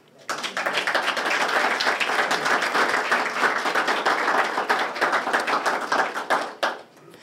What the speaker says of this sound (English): I think we owe the United States a round of applause for the success that we've achieved